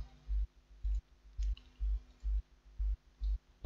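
Computer mouse clicks come in a quick, regular series of about eight soft taps, close and quiet, while working on a spreadsheet.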